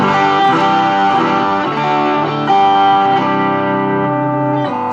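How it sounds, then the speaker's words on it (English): Electric guitar played through an Analog Man Prince of Tone overdrive pedal, sustained chords ringing with mild drive and a slight swell partway through, steady and close for about five seconds with no voices. "It's my Analog Man Prince of Tone. An amazing pedal."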